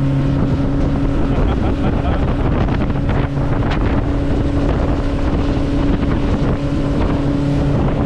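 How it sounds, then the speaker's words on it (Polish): A 115 hp motorboat engine on a light boat drones steadily, with strong low tonal hum and wind buffeting the microphone throughout. "115 koni w tak lekkiej łódce jest naprawdę"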